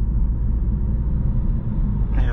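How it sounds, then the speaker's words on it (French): A car engine idling while it warms up before a motorway drive, a steady low rumble heard from inside the vehicle, unbroken for the whole short stretch. "Là, on va laisser quand même un petit peu le véhicule chauffer un petit peu."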